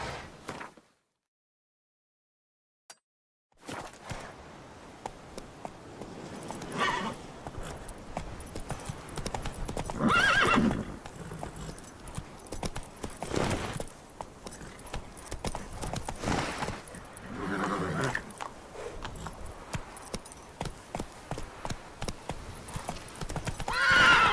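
Roach, a horse in The Witcher 3 video game, galloping with steady clip-clopping hooves and an occasional neigh, close and continuous after a brief silent start, with no talk.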